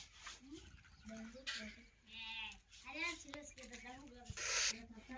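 Goats bleat repeatedly while being fed fodder, several wavering cries close by, with a person talking over them.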